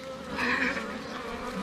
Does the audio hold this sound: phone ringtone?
no